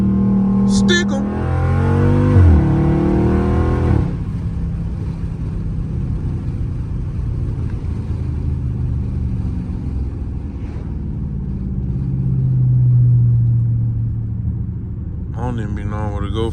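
A loud Dodge Charger Scat Pack rumbles and revs on a street drive, heard from inside the car with a window rolled down. Someone talks over the steady engine drone at the start and end.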